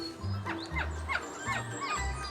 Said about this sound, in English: Those little chirpy noises you can hear are happy Capuchin sounds.